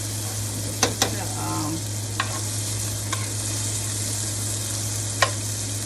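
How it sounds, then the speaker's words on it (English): Vegetables sauté in a pan with a steady close sizzle, a low hum underneath and several sharp clicks and scrapes of a utensil stirring them. "Sauteing the vegetables."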